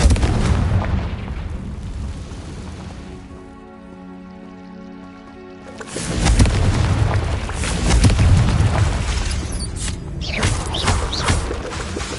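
An explosion from the Confringo blasting spell in Hogwarts Legacy, a loud booming blast with rumbling debris that follows a quieter lull and then fades in a cracking tail.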